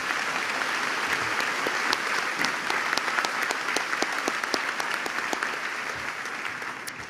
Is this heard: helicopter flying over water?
no